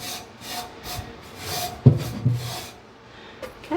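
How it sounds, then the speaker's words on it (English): Brush scraping across grill grates after cooking chicken, a few short rubbing strokes with a couple of sharper scuffs, fairly quiet and close. "So just a light brushing of this."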